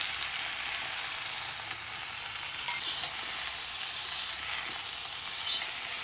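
Ginger paste sizzles steadily in hot oil in a pan for a Bengali fish, cauliflower, sweet potato and bori curry, a continuous loud frying hiss with light stirring throughout.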